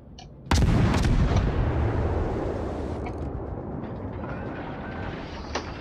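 Naval guns fire in the World of Warships video game: one sudden loud boom, a few quick follow-up shots, then a long rumbling decay in the mix.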